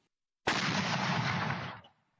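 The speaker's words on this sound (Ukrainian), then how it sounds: "Ось так стріляє «Нона» – самохідний комплекс ще радянського зразка, розрахований на мінометні боєприпаси." A Soviet-era Nona self-propelled mortar system fires once, a sudden loud blast that roars for over a second before fading, heard alone.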